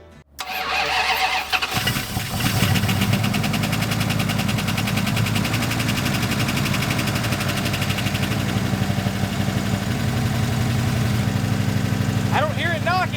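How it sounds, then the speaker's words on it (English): A turbocharged V8 in a police car cranks, fires and settles into a loud, steady, rumbling run right up close, the engine note holding even throughout with no voices over it. "I don't hear it knocking. I guess the engine's okay."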